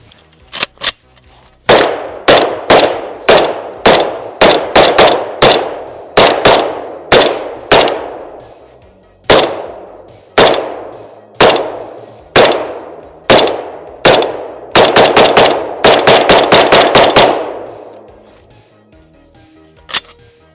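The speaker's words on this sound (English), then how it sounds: "let's take a few more shots downrange and just see how she fires." An AK-47 rifle fires a long string of loud, sharp shots downrange outdoors, mostly single spaced shots with a fast rapid burst near the end, close and dominant with no talk.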